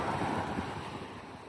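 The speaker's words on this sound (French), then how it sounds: "Tu vois, là, il y a un peu de vent" Wind gusting by the sea near Bouillante in the Caribbean, a broad steady rush buffeting the microphone with low rumble, no voices, lasting only a moment.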